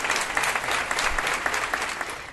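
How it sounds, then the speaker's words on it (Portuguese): Steady applause from a congregation of church members gathered for a Bible study in Rotterdam, Netherlands; dense, even clapping at moderate volume filling the room without pause. "Um forte aplauso para todos os nossos irmãos."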